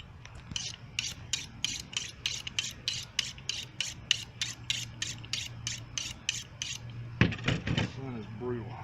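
Sword blade drawn repeatedly across a sharpener outdoors, about twenty rhythmic rasping strokes in steady succession, close and fairly loud, ending in a few scraping strokes.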